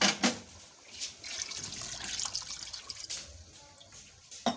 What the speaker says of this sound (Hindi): अब हम इसमें 2 गिलास पानी डाल देंगे ताकि इसका जो शोरबा है वो अच्छे से तैयार हो जाए।